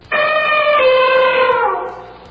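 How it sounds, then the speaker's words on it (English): A single loud, drawn-out elephant trumpet with a bright, brassy tone that slowly fades away. "This is the sound of my elephant."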